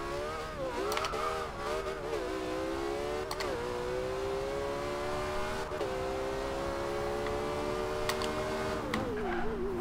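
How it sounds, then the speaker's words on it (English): A 2014 Porsche 918 Spyder engine in the video game Forza Horizon 2 revs and drones steadily with whining turbo tones rising and falling between gear shifts, loud and close, no talking. "You can hear those turbochargers as well, which I really like."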